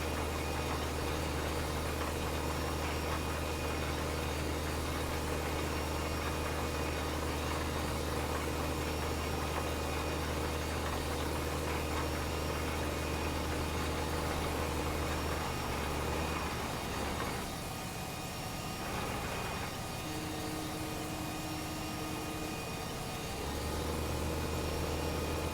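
A tractor engine runs steadily in Farming Simulator, giving a continuous low idling rumble with a faint mechanical knock, holding constant for most of the stretch before a brief change in tone near the end.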